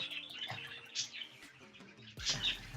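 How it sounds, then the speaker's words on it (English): Bird chirping in short, bright, high tweets scattered through the moment, fairly close, with some background clatter of a LEGO building competition studio but no speech. "The bird is cheering you on."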